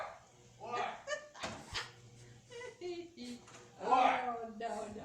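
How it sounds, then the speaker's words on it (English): A dog near a running washing machine indoors gives a string of short barks and whimpers, close and fairly loud, while people talk around it. "the only thing we can figure out is he's barking at the washing machine"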